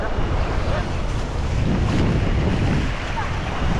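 Deep floodwater churns through Dubai streets during flash floods, a steady broadband wash of sloshing water and wind buffeting the microphone, loud and continuous throughout.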